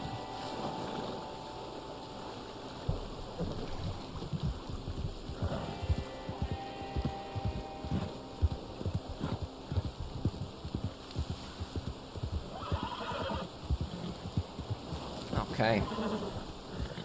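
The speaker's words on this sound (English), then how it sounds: "come on, horse. Cross the river." A horse wading across a river in the Red Dead Online game, with repeated soft splashing hoof steps over steady running water and ambient wind, occasional brief tonal game sounds, and no talking in the clip.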